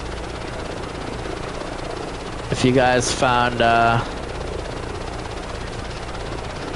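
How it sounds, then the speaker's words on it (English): A helicopter rotor in Microsoft Flight Simulator 2024 drones steadily throughout at moderate level, with a person talking briefly over it midway. "Sorry for the slow helicopter"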